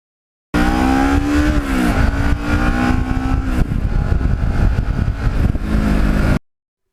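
A Kawasaki Ninja EX650R motorcycle engine revs up and holds high, its pitch climbing and shifting in a loud, close, continuous roar before cutting off abruptly.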